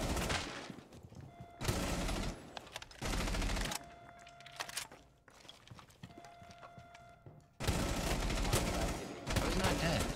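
Gunfire in Rainbow Six Siege cracks out in loud rapid bursts separated by short pauses, with quieter stretches of game noise between the volleys.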